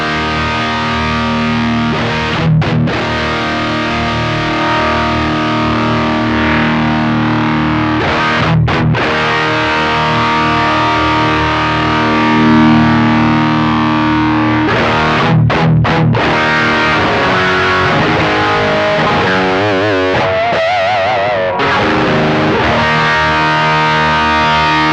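Electric guitar chords played through a Fractal amp modeler with a custom modeled cabinet, heavily distorted and sustained, with several brief pauses between strummed chords, continuous and loud without talking.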